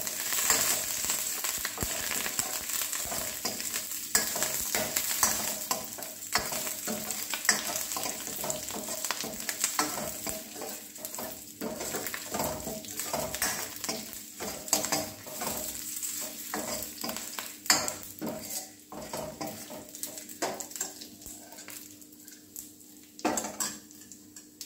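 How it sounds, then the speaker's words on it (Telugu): Fresh curry leaves fry in a pan for Andhra pappu charu, with a constant soft sizzle under repeated scraping and clinking of a spoon stirring against the metal pan. "సో ఇవన్నీ మనం బాగా అలా ఒకసారి తిప్పుకుందాం."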